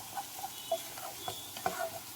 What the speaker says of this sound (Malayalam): മുട്ടപ്പൊരി